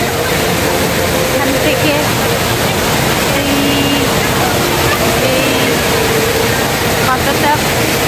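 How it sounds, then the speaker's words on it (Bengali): Heavy roar of the world's largest indoor waterfall, heard from below at level 1 with spray falling nearby, a steady loud wash of rushing water filling the whole stretch while someone speaks briefly over it. "world's largest indoor waterfall"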